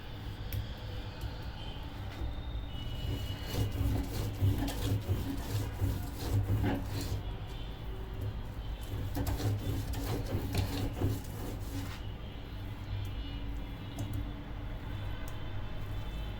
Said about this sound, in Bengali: সবগুলো ধনিয়া পাতা বেটে নেব।